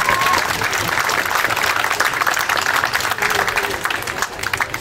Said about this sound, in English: So please give all these people a big round of applause